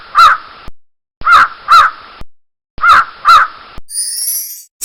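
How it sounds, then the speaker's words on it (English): A crow caws loudly and nearby in three bursts of two harsh calls each, with clean silence between bursts, and a brief high bright sound trails in at the end. "crow"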